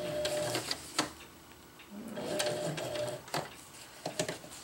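A sewing machine stitches across the bottom of a fabric stuff sack in a few bursts, with short pauses and clunks as the fabric is shifted between runs; no one speaks.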